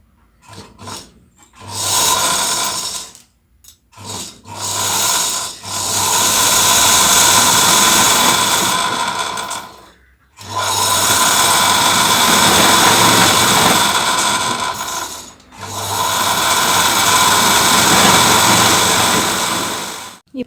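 A sewing machine spinning to wind thread onto a bobbin without a bobbin winder, heard as a loud, steady whirring hum in several long runs separated by short stops and restarts.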